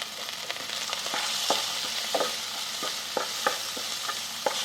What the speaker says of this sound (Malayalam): ഒരു ശകലം മഞ്ഞപ്പൊടി ആഡ് ചെയ്ത് കൊടുക്കാം. ഇളക്കി വിടുക.